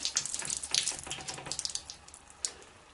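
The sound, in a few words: water flowing out of a hose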